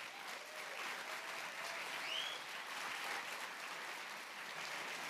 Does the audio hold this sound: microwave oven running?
no